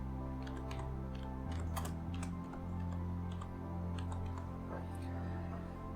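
Fingers type a chart heading on a computer keyboard, a run of quick, light key clicks in irregular bursts over a steady low background hum, no talk.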